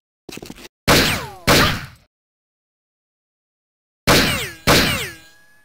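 Four booming gunshots from the video game Jagged Alliance 2 ring out in two pairs separated by silence, each with a ringing tail, preceded by a brief rattling burst.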